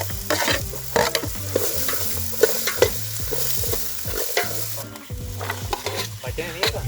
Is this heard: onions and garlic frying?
yes